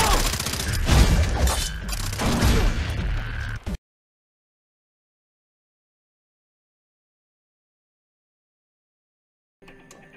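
Co-op Far Cry 3 firefight on Xbox 360, with dense bursts of rapid gunfire and booming impacts for almost four seconds, then abrupt silence and a faint return of sound at the very end.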